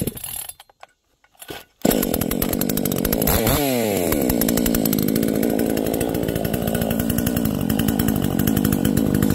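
A Komatsu Zenoah 5800 clone chainsaw on its first start with fresh gasoline: a short quiet stretch with a few faint pulls, then the two-stroke engine catches loudly, revs up once and settles into a steady, buzzing run.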